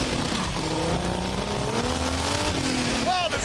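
A Datsun and a Subaru race side by side, engines roaring loudly and continuously with a sustained tire squeal, while a person talks over the din.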